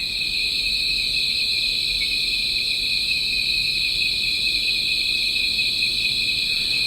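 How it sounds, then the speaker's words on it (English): A dense, continuous chorus of crickets trills steadily at night on Koh Mak island, Thailand, high and shrill, with a low ambient hum underneath and no talking. "You'll love falling asleep to the song of the crickets at night."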